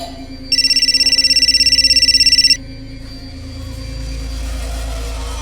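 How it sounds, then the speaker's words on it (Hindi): A phone rings indoors in a steady electronic trill lasting about two seconds, loud over a low background hum and rumble, with no talking during the ring. "पापा आपका फोन बज रहा है।"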